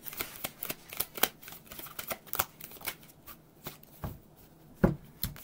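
A deck of Wisdom Oracle cards is shuffled by hand, giving a quick run of crisp riffling flicks and taps close up, with one sharper knock near the end and no talking.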